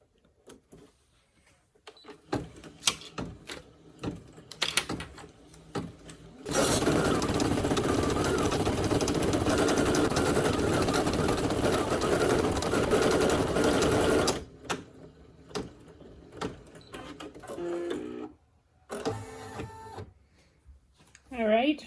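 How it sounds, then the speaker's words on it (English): An embroidery machine stitches a Halloween lollipop holder in the hoop, a loud sustained mechanical whir for several seconds, bracketed by clicks, handling noises and brief talk. "we'll let it stitch a couple of stitches, stop it, and trim that tail"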